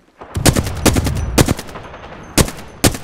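Apex Legends gunfire, loud close bursts of rapid shots in several clusters separated by short pauses.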